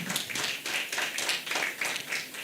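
An audience at a Breast Society of Ghana event gives a round of applause, a short burst of dense, fairly loud clapping pulsing in waves for a couple of seconds.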